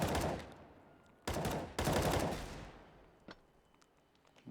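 Burst-heavy gunfire from a Counter-Strike match on the Train map: three loud volleys of rapid shots, the first and last trailing off, followed by a few faint single shots in the background.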